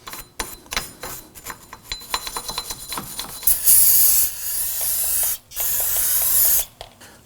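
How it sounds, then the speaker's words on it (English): Brake solvent hisses from an aerosol can onto a wheel hub while rear brakes are being replaced on a 2005-2009 Subaru Legacy. Clicks and taps come first, then long loud sprays with a brief pause between them. "Periodically spray it down with some brake solvent to clean up anything"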